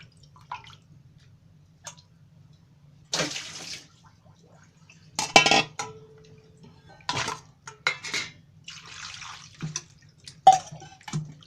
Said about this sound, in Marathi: हे असं 2-3 वेळा धुवून काढायचं चांगलं.